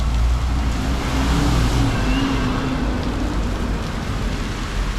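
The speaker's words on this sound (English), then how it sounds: "there you can see all the water's coming up when the vehicles come by" Vehicles roll along a rain-soaked street in Taipa Village, Macau, tyres hissing through standing water amid steady downpour, a close swelling wash of road noise that fades slightly toward the end.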